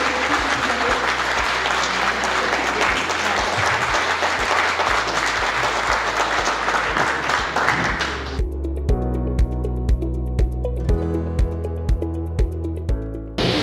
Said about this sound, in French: je voudrais un tonnerre d'applaudissements pour Éric Badouel